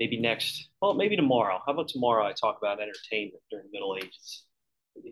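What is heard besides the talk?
None of the usual background noises is heard.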